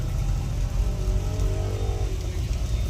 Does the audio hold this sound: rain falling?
yes